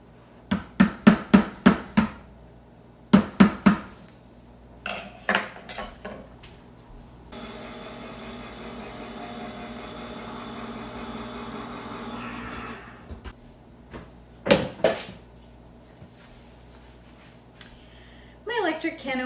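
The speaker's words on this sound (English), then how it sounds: "Electric can opener did the trick." An electric can opener whirs steadily for about five seconds while opening a 28-ounce can of Italian tomatoes in a home kitchen, framed by sharp metallic clanks and taps before and after.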